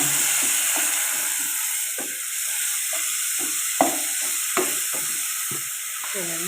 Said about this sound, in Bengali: তেলটা গরম রসুন দিলাম ও রসুন তো বাদামি কালার দিলাম ও এখন পেঁয়াজ দিলাম